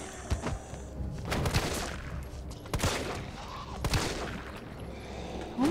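Bursts of gunfire in the video game Resident Evil 3 on PC, several rapid volleys of shots with thuds between them, loud and close with little talk.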